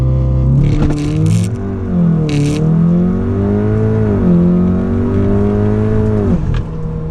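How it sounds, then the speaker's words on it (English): A Volkswagen Golf R with Stage 2 and DSG tunes revs hard and steady on launch control, its engine note rising and dipping under load across the whole stretch, loud and close, with brief hissing bursts over it. "Launch control in this car is honestly very brutal right now"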